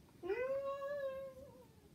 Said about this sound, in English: Ignore the cat and kid sounds.